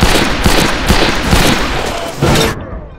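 Rapid bursts of gunfire in the Western shooter game Fistful of Frags, a loud close volley of repeated shots with a few heavier cracks, cutting off abruptly near the end.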